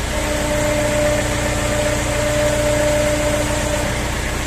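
Mini tractor engine idling steadily during a pre-shipment inspection, a continuous close, loud mechanical hum with a low throb and a faint whine, running alone without talk.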